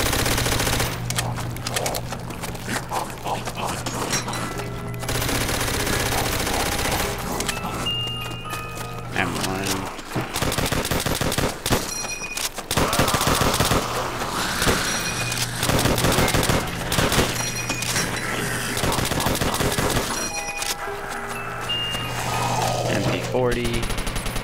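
Type 100 submachine gun fire in World at War Zombies, rapid automatic bursts mixed with game noise and clatter, loud and continuous throughout.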